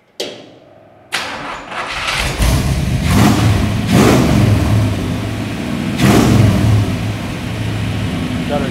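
A Ford Model T hot rod engine cranks briefly, then catches and starts, running loud and close with repeated revving surges over a rough idle.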